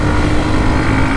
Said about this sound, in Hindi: खतरनाक दौड़ रहा है ये बाइक।